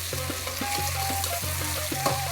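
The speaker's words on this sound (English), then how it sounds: "I'm going to fry this till the raw smell of the ginger garlic goes off." Ginger and garlic paste fries in a pan for a mutton nihari, giving a steady, close sizzle and hiss that runs through the whole stretch with faint recurring tonal tones underneath.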